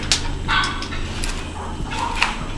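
Strange, creepy bird calls ring out at night, a few sharp shrill cries in quick bursts, moderately distant over a low steady background hum.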